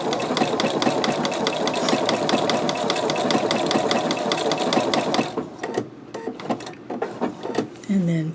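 A sewing machine running an applique stitch, a fast steady mechanical whir and needle rattle that stops after about five seconds, followed by a few short stitching bursts with a voice talking.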